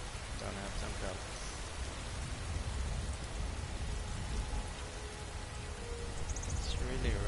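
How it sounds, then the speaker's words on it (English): Heavy rain in the video game Skyrim, a steady dense wash of falling water that stays loud and constant throughout with no break. "It's really raining hard"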